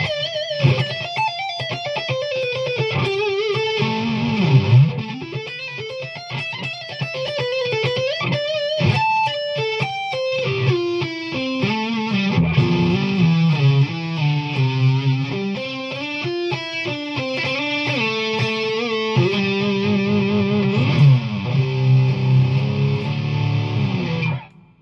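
An electric guitar fitted with DiMarzio Evolution humbuckers and an HS3 single-coil pickup plays a long, dense distorted passage of rapid notes, bends and chords, loud and steady throughout, with no talking.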